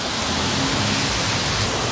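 Rain comes down in Fukuoka, Japan, a close, continuous patter of drops on surfaces with a low rumble underneath, steady and unbroken, without talk.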